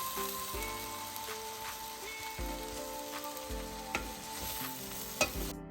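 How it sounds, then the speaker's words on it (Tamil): Grated coconut being stirred into millet fried rice in a hot pan, a soft continuous sizzle with scraping spoon strokes repeating every second or so, close and quiet. "அதோட இந்த எடுத்து வச்ச தேங்காய் பூவையும் சேர்ப்பான் கலந்து விடுவோம்"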